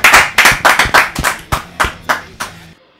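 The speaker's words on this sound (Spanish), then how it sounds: "un fuerte aplauso para ellos." About ten sharp, separate claps spaced roughly a beat apart, loud and close, given to a band during a recording session, ending in sudden silence.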